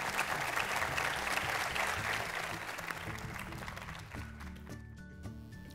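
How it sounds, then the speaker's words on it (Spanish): An audience at a national congress and convention center event applauds the minister of tourism with a quiet, sustained wash of clapping over a low, repeating musical tone, thinning out over the last couple of seconds. "Yo quisiera nuevamente pedir un fuerte aplauso para el señor ministro de Turismo y sus colaboradoras y colaboradores"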